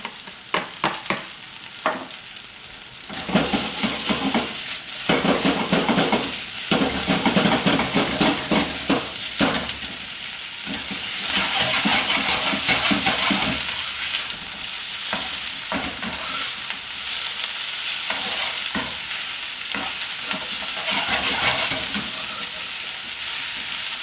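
Beef goes into a hot pan for a beef and black bean dish, hitting with a loud burst of sizzling that then settles into a steady fry, with repeated scraping and clattering from stirring throughout; no speech.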